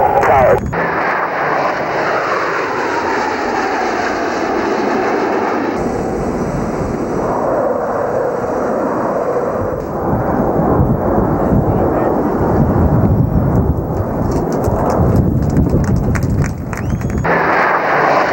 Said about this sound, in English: An afterburning jet screaming through the sky.